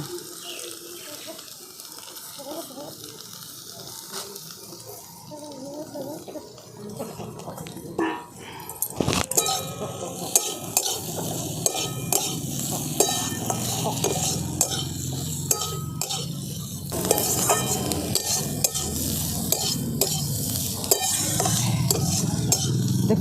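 A semolina dish finished with chopped coriander is stirred in a frying pan, giving scraping, clattering strokes with a faint sizzle that grow louder and busier in the second half.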